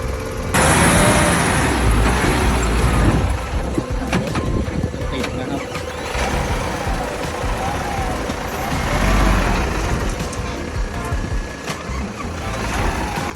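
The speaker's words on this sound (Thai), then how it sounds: "ตอนนี้ปูน 5 คิว เข้ามานะครับ" A concrete mixer truck carrying 5 cubic metres of concrete rolls in at a house footing job, its engine a steady, loud rumble throughout with people talking over it.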